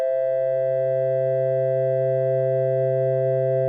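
Two steady pure tones ring together without a break, one low and one higher, holding at an even, moderate loudness.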